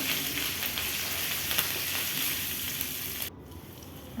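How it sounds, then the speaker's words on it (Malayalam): Cinnamon, cardamom, cloves, cumin, ginger and garlic sizzle steadily in hot oil in a pan for a home-style Kerala beef curry, a close, even crackle while being stirred, then cutting off abruptly near the end. "നന്നായിട്ട് ഇളക്കണം."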